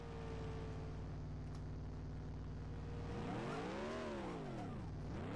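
NASCAR stock car in an old racing video game running off the track, with a loud steady engine drone and then rising and falling revs as the car bounces and wheels spin on rough ground.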